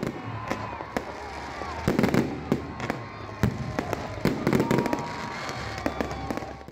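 A midnight fireworks display at Minar-e-Pakistan goes off with rapid, irregular cracks and booms, some sharp and close, layered over a continuous rumble and faint crowd noise.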